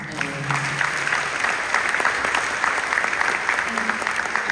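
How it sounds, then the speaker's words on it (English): A room of people gives a round of applause at a congressional State of the District event, loud dense clapping that continues steadily throughout. "give me one more round of applause for Kyle and David"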